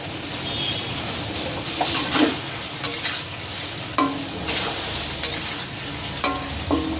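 A pumpkin curry with chopped tomato is stirred in a pan. The spoon makes repeated scraping clatters over a soft, steady sizzle, close and fairly loud, with irregular strokes every second or so.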